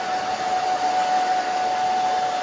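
Hair dryer blowing on natural hair during a pixie cut styling, a loud continuous close-up whine and rushing air with no pauses.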